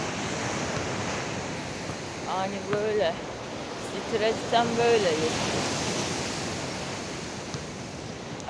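Sea waves crash on the shore as a steady, broad roar of surf, heard under someone speaking Turkish close to the microphone.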